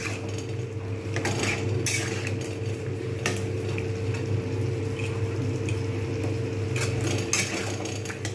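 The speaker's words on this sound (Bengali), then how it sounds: "একটু জল দিয়ে দিয়ে দেবো বাটির মধ্যে অনেকটা পরিমাণে লেগে রয়েছে জাস্ট একটু নেড়ে নেব" A utensil stirs a bowl holding a little water to loosen the leftover residue while cooking potato dum with capsicum. It gives steady, close scraping and clinking strokes in an uneven rhythm over a constant low background hum, with no voices.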